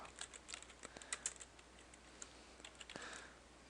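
Rapid, irregular clicking of keys on a computer keyboard while Java code for a keyboard-controlled GUI program is entered, faint and close, heard alone without talking.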